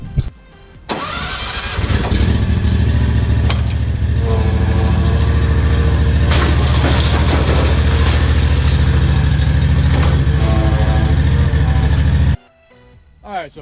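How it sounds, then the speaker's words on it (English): Exmark lawn mower engine starts and runs loudly and steadily at close range for about eleven seconds before cutting out abruptly, with a few voices faintly underneath. "we're gonna get this mower off the trailer and start mowing"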